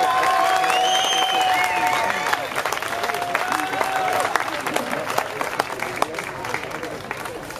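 A crowd gives modest applause at an amateur boxing event at Zollverein in Essen. The clapping is steady and fades gradually as voices carry over it.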